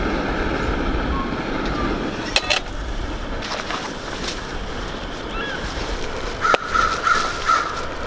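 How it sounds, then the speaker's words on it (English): Crows caw several times near an outdoor campsite cooking spot beside water, short harsh calls clustered near the end over steady wind and surf noise. "Well, the crows know you're cooking too."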